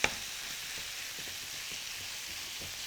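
Onions sizzle steadily as they cook down in butter, with a quiet, even frying hiss throughout and soft crackles, a small pop right at the start.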